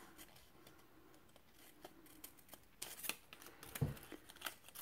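Scissors trim paper along the edge of a die-cut pop-up card, giving a run of faint, quick snips that grow sharper and louder toward the end over a low room hiss.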